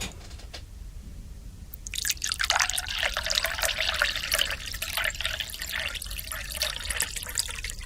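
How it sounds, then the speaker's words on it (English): Liquid is poured from a jug, starting after a quiet pause and building into a steady, close splashing stream that continues for several seconds without any talking. "Katie, I'm going to start pouring now."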